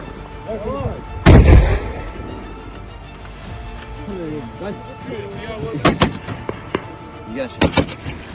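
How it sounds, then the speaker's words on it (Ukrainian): A Browning M2 heavy machine gun fires a booming burst, followed by later sharp bursts of rapid shots, with a voice talking in between. "Це американський кулемет крупного калібру Браунінг М2"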